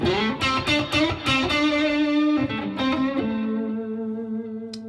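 An electric guitar plays through Line 6 Helix amp and cab models with a distorted, effected tone: several quick picked notes and chords, then a sustained note ringing out and slowly decaying.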